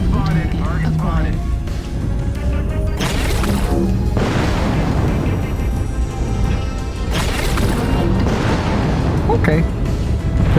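Long-range missile volleys slamming into a target in MechWarrior Online, a dense run of heavy booms and crashing impacts that hold steady and loud for the whole stretch, with a voice talking over them.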